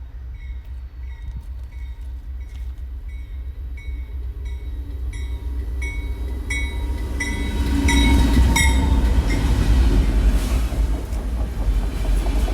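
An auto rack freight train carrying vehicles rolls past close by, wheels clacking rhythmically over rail joints, the rumble swelling louder as the cars go by.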